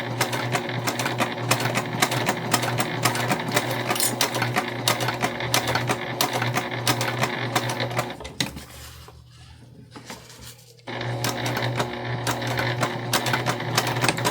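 A sewing machine stitches a seam in a fast, even, rattling run. It pauses briefly near the middle, then resumes at the same steady pace, close and clear with no talking.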